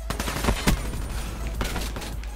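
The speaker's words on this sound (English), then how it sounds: "Of course, a shotgun, dude." Gunfire crackles in a hardcore domination match of Call of Duty: Black Ops 3 on PS4. A couple of sharp, close shotgun blasts sit over constant low rumble and scattered distant shots.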